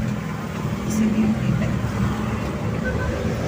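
Afternoon rush-hour road traffic on East Avenue rumbles as a steady, low engine drone close by, under occasional talk.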